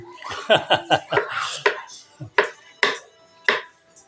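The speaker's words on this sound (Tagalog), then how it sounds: "Sige, tadtad lang ng tadtad." A knife chops bamboo shoots rapidly on a cutting board in a quick burst of sharp hits, then a few slower, spaced chops.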